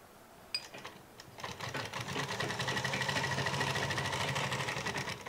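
Sewing machine stitching lace trim onto fabric in a boutique, starting with a few clicks, then running in a fast, steady mechanical whir that builds and holds loud and close, with no talking.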